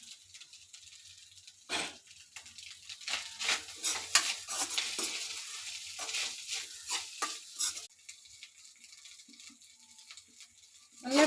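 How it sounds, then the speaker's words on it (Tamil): Potato rice stirred with ghee in a pan: repeated scraping and clinking strokes of a spoon against the pan, with a faint sizzle in the background and short pauses between stirs. "நல்லா இப்போ கிளறியாச்சு."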